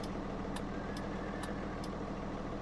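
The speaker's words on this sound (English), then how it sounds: "Turn off the tractor." A tractor engine idles steadily in the Farming Simulator game, a constant low rumble with a few faint ticking clicks on top and no talking.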